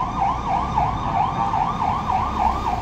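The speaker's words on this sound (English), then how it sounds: "Oh, police car." A police car siren in Jerusalem during Passover wails in a fast, repeating rise and fall, loud and fairly near, with no talk over it.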